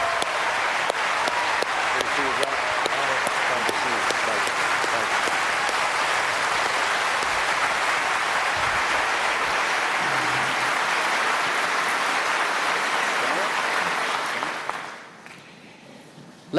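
Sustained audience applause welcoming Senators Obama and McCain at the first 2008 presidential debate, steady loud clapping for about fifteen seconds before fading quickly to quiet.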